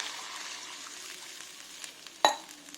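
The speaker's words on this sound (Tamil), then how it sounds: "கடையில் தண்ணியெல்லாம் நல்லா கொதிக்க ஆரம்பிச்சிருச்சு" Water coming to a boil in a cooking pan with curry leaves, a steady close bubbling and sizzling hiss, ending in a sharp metallic clink.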